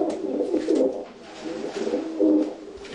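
Racing pigeons coo close by, giving soft, throaty, rolling calls in two or three swelling bursts with no talk.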